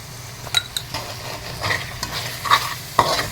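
Roasted cumin and coriander powders, homemade garam masala and turmeric fry in a pan as a spoon stirs them, sending out scraping strokes and metallic clinks over a soft, continuous sizzle.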